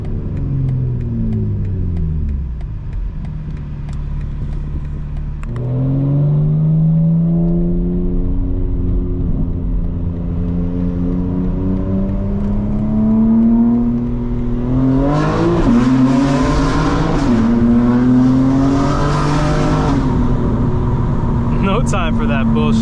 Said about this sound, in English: Especially knowing this is the real noise that the car is making.